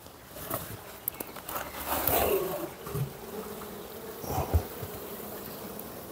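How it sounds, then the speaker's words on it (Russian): Bees in a shipped package buzz softly and continuously at close range, with scattered light rustles and a brief louder bump partway through. "Ну, ребята, тут полный пакет пчелы."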